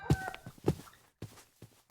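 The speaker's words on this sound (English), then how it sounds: "Rooster." A rooster crows in a modded video game, a short, faint, bright call sitting among a few soft thuds and clicks.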